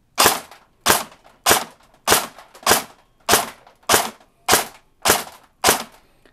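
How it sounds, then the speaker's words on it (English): Ten evenly spaced sharp cracks from a Cyma SR25 airsoft rifle firing with its OEM gear set, each shot loud and close with a short decay, fired at a steady semi-automatic pace. "we're going to get 10 shots off and see how the FPS consistency is with the OEM gear set."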